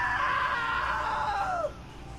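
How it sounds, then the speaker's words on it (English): A long, high-pitched scream from the video game What Remains of Edith Finch holds steady, then slides down in pitch and breaks off, leaving quiet background hum. "Now that was a great scream."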